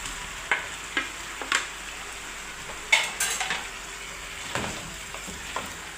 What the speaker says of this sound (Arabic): نقلبها كلها في التتبيله كده